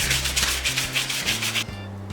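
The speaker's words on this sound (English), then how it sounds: "just sanding this down." Steady back-and-forth sanding strokes on bamboo, a rhythmic scratchy rasp repeating about twice per second, close and loud, with a low hum underneath.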